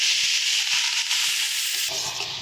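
Pumpkin leaves and stalks being stirred in a hot pan, giving a steady close sizzling hiss with a few soft scraping strokes, no voices.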